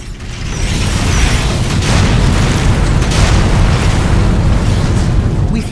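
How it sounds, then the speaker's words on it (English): A building blows apart in The Riftbreaker, a loud deep rumbling explosion with heavy low boom and mechanical crunching that rolls on continuously for several seconds, close and dense. "A building has been destroyed."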